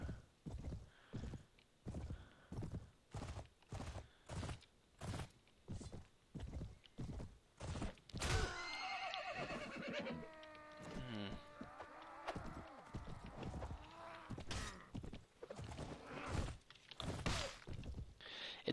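Horse hooves pound in a steady galloping rhythm in Mount & Blade: Warband, then a loud whinnying neigh breaks out midway amid continued clattering and thuds.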